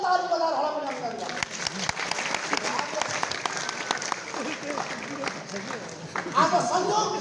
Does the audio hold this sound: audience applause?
yes